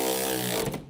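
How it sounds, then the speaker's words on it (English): Electric ratcheting wrench with a short 12mm socket driving a bolt on a 2007 Subaru Impreza GD rear lateral link ABS harness bracket: a steady, close buzzing whir of the ratchet mechanism that tapers off near the end. "You need to use an electric ratcheting wrench with a 12mm short socket to secure them."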